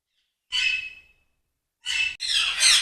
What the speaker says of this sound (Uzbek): Bu yoqda katta qushlar asosan, jako, kakado, shunaqa qushlar boqilgan.